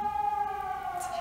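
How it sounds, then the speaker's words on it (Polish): A siren wails steadily throughout, a sustained tone with harmonics, faint and somewhat distant, with no one talking over it. "Syreny takie."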